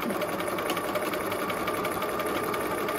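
A sewing machine runs steadily, stitching fabric in a straight line, a close, continuous whirring hum that holds an even level throughout.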